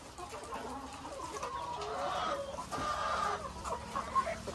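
Layer chickens in a poultry layer building cluck steadily and close by, forming a continuous busy flock murmur with a few sharper calls.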